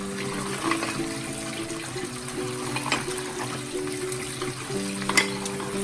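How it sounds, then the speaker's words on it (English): Aquarium sand and decorations being rinsed in water, a steady close-up swishing and trickling with running-water hiss, occasional splashes and a low humming tone underneath. "I'm just giving them a really good rinse to get rid of anything that it can."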